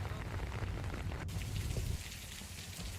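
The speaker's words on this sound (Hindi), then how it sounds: "सुबह से ही दिल्ली में रिमझिम बारिश हो रही है" Light drizzling rain falling in Delhi, a dense, steady hiss of fine drops with a low background rumble, continuous and even, easing slightly toward the end.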